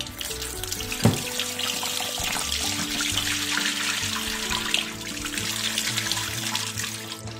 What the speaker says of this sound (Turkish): Zeytinimizin ilk acı suyunu döküyoruz.